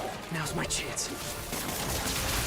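Gunfire bursts from the Marvel's Spider-Man video game crackle through a dense mix of game effects, with a voice speaking over the action.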